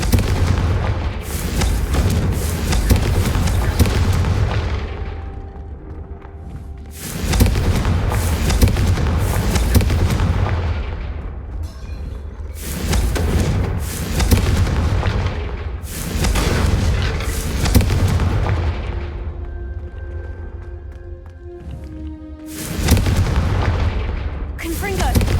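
Confringo fire-spell blasts in the Hogwarts Legacy video game: about six heavy, booming explosions spaced several seconds apart, each loud and close with a rumbling tail that fades before the next blast.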